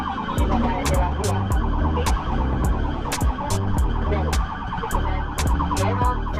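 A loud, continuous emergency siren wails throughout over heavy road noise and rhythmic sharp clicks, close and steady.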